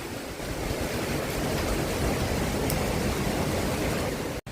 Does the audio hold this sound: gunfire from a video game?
no